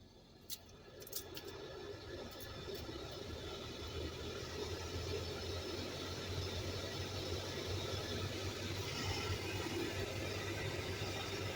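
A 2019 Dodge Grand Caravan's cabin blower motor runs steadily, a constant whooshing hum with a low drone that holds at an even level throughout, with a few faint clicks near the start.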